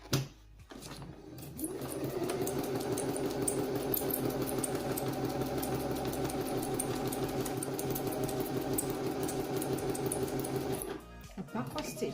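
A sewing machine stitches a line through fabric, a continuous close whirring hum holding steady for about nine seconds between brief clicks at the start and end.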